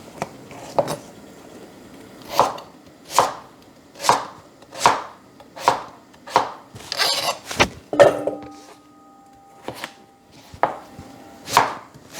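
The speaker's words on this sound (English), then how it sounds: "For the chayote, I like to cut them into half and then peel it." A knife cuts chayote in half on a cutting board while vegetables are prepared for Hmong vegetable soup: about a dozen crisp, evenly spaced chops, close and clear in a quiet kitchen.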